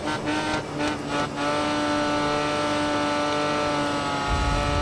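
A race car on a circuit lap takes a bend at high speed, its engine a loud, steady high-pitched drone close to the cockpit, with a brief roughness and a low rumble as the tyres lose grip near the end.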